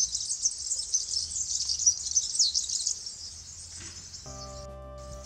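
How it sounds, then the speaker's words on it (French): Birds and insects in a Kabylie village in Algeria chirp and trill together in a steady, high, continuous chorus that fades toward the end as a low sustained tonal hum comes in. "Il y a une symphonie d'oiseaux continue."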